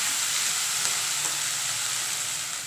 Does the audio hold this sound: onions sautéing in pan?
yes